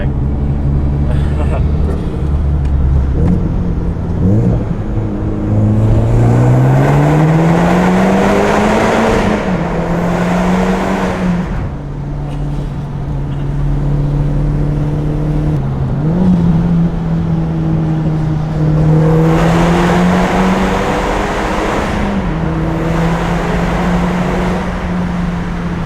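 Engine of a Nissan 240SX idling and revving, its low harmonic drone rising and falling through several rev swells over continuous loud rumble, with people talking in the background.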